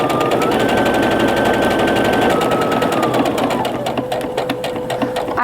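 A sewing machine stitches a French seam on a pillowcase steadily in a fast, even rapid-fire rhythm, close and loud, slowing slightly near the end.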